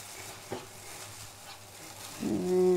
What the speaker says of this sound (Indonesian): sekarang kita aduk satu wajan